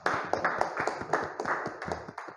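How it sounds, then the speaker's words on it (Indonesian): A classroom group claps for a student group's presentation, with scattered, uneven handclaps from a small number of people that keep going steadily for a couple of seconds. "Beri tepuk tangannya untuk kelompoknya Mas Fadil."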